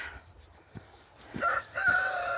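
Farm chickens give a rooster's crow that rises out of quiet clucking, close and fairly loud toward the end, with soft thumps and rustling from the pen before it.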